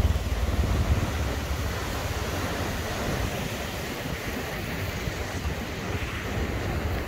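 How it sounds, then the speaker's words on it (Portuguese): Ocean surf rolls in steadily at Macumba beach in Recreio dos Bandeirantes, Rio de Janeiro, a continuous broadband wash of breaking waves with wind noise on the microphone and no voices. "hoje o mar tá tendo boas ondas"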